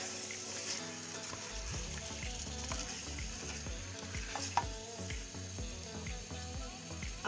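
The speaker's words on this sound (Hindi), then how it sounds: "गाजरों को भी अच्छे से मिक्स करेंगे।" Carrots and potatoes being stirred as they fry in a pan for a restaurant-style mixed vegetable dish: a steady sizzle with scraping stirs, playing beneath continuous tonal background music.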